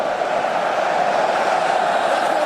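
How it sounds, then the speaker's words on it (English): A stadium crowd roars steadily during a Mexican wave at a rugby World Cup match between Australia and Fiji at the Stade Geoffrey Guichard. The roar is loud, dense and sustained, a continuous wash of massed voices with no speech over it. "Roars from the crowd as the Mexican wave continues to spiral around the Stade Geoffrey Guichard"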